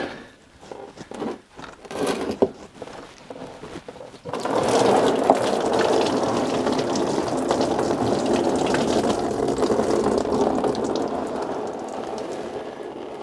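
Water pours steadily in a broad, hissing rush onto a Twingo car being checked for leaks, continuous and fairly close, following a few brief knocks and clatters.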